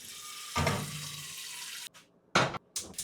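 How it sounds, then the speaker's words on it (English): Warm tap water runs over saltfish being rinsed in a kitchen sink, coming in a few separate bursts of rushing flow with brief quiet gaps between them, close and moderately loud. "Wash off the saltfish, guys. And we're washing it off under warm water, yeah?"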